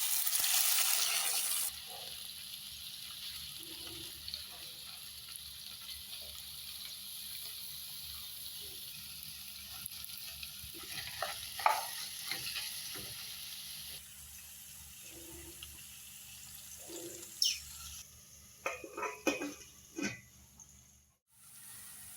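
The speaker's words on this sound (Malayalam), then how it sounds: "വെണ്ടയ്ക്ക ഇട്ട് കൊടുക്കാം." Okra frying in coconut oil in a hot pan, a steady, close sizzle that runs through the whole clip with occasional clinks and stirring scrapes near the end.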